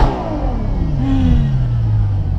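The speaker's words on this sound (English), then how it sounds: "I'm gonna show you what it sounds like revving from a standstill" A Ferrari 812 Superfast V12 engine revs hard from a standstill at idle, its pitch sweeping up and then settling into a loud, rising roar, close and with no talk.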